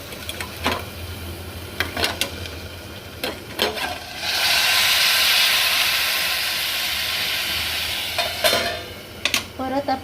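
Hot water hits a hot pan of cooking raw mango and capsicum vegetables and sizzles loudly for several seconds, surrounded by brief clinks and stirring noises.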